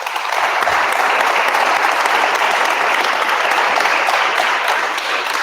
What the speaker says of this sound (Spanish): después de esta merecida ovación